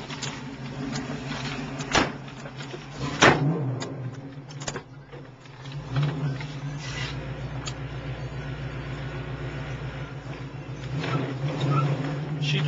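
A 1969 Camaro with a ZZ4 engine pulls away, its low steady engine hum carrying through the cabin, broken by a few sharp clunks and thumps early on.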